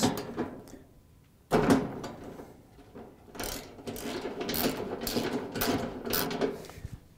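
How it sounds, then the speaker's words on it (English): A wrench works a 9/16 nut loose on the shaft of a Whirlpool, KitchenAid or Maytag washer, giving close metallic clicks and ratcheting scrapes in short bursts with pauses between. "To get the shaft out, we have to remove this nut."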